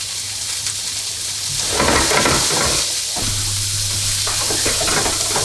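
Diced onion and whole cumin seeds hit a very hot pan, giving a loud, steady sizzle and crackle that swells midway as they are stirred, with low stove hum underneath and no talk.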